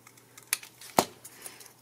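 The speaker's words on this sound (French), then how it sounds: "Là, je coupe avec mes ciseaux. Voilà, je coupe mes angles" Scissors snip the corners of folded paper in a few small, crisp clicks, with one sharper cut in the middle, close and quiet with no talk.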